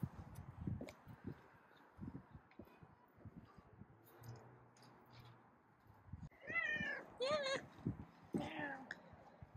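A chatty kitten outdoors on a wall lets out several clear, rising meows in quick succession near the end, after quieter rustling, with a person talking softly nearby.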